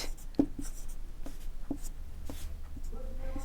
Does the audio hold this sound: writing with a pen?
yes